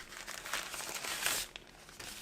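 Plastic wrapping around a Womier K66 keyboard crinkles and rustles softly as it is handled nearby, a steady faint crackle with a few sharper crumples.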